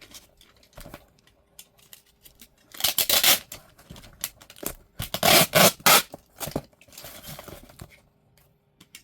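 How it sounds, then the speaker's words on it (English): Packing tape pulled off the roll and pressed around a cardboard box, with loud ripping screeches in separate bursts between quieter rustles and taps, close by and without talk. "So, now I just have to tape up this box."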